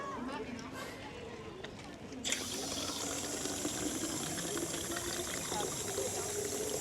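Water running steadily from a public drinking fountain in Parc Floral, Paris, a continuous hissing splash that starts abruptly and stays close and loud, with people talking faintly nearby.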